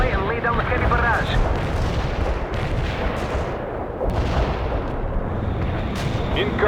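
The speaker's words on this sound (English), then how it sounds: "We can deploy and lay down the heavy barrage." A heavy artillery barrage in the World in Conflict video game, dense continuous rumbling blasts and booming impacts overlapping loudly, with gunfire crackle and faint radio-style voices in the mix.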